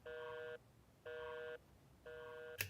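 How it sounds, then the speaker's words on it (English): Three repeated electronic tone bursts, each about half a second with equal pauses: a telephone busy signal, fairly loud and close, with a click at the end. "gives me this busy signal here"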